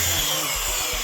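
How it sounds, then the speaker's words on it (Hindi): Electric drill machine running steadily under load after a converter repair, a continuous close whirring hum with slight pulsing throughout. "अब इसके ऊपर ड्रिल मशीन चला रहे हैं"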